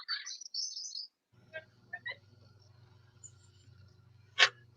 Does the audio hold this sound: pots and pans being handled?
no